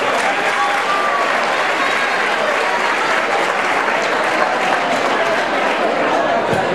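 An audience at a school graduation ceremony for high school and vocational students claps in sustained, dense, even applause, close and loud throughout.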